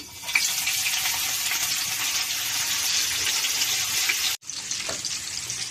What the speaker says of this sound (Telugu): మన కూరకు సరిపడా ఆయిల్ వేడైంది కదా, రొయ్యలు వేసేద్దాం